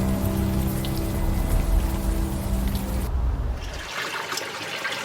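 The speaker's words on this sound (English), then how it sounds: "At least the rain is washing away most of the smell" Steady rain falls in a game scene, a dense hiss of drops with a lower rushing wash underneath; the tone shifts partway through to a thinner, brighter patter of rain.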